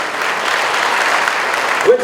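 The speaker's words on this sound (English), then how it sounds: "Let's get a really thunderous round of applause going for Health Foundation" An audience at the HELP Foundation 25th anniversary event breaks into loud, sustained applause, a thick continuous roar of clapping from a large crowd, with a brief bump near the end.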